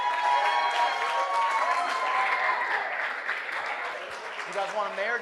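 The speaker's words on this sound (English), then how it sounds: "Let's give Danny a nice big round of applause" Wedding reception guests give the father of the bride a warm round of applause, sustained clapping with a few cheers that gradually thins, and a voice speaks near the end.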